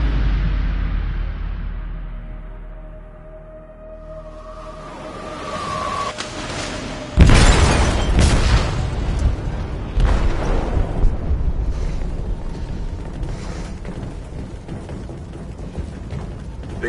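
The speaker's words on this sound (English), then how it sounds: "They detonated an explosive in the hold." An explosive goes off in a ship's hold in Detroit: Become Human: quiet hum and a rising tone, then a sudden massive blast, followed by long rumbling, creaking metal and a second heavy impact.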